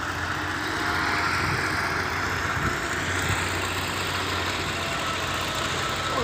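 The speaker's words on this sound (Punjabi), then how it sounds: "ਮਿੱਟੀ ਦੀਆਂ ਟਰਾਲੀਆਂ ਧੜਾ ਧੜਾ ਆ ਰਹੀਆਂ" A tractor hauling soil trolleys in a Punjab, Pakistan village gives a steady, fairly quiet engine rumble that holds an even idling drone throughout.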